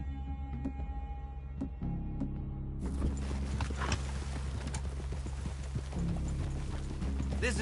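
Horses' hooves clip-clop at a steady walking pace on the ground in the video game Red Dead Redemption 2, close and continuous under a low ambient background, with no speech.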